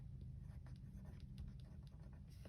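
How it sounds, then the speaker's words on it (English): Pen scratching across paper in a junk journal, a soft continuous scribble close by over a low background hum, no talking. "I'm going to write what I get"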